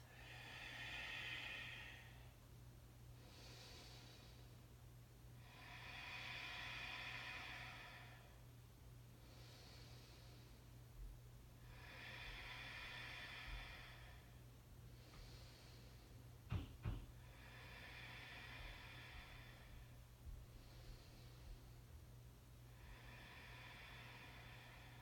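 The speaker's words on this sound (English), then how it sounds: "Ujjayi breath." Slow, steady ujjayi breathing during a yoga flow toward splits pose: soft hissing throat breaths rise and fall in a regular rhythm about every three seconds, close and fairly quiet over a low steady hum, with one brief knock partway through.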